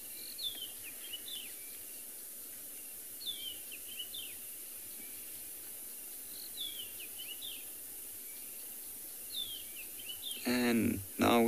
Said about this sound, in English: If you do listen to the birds calling in the background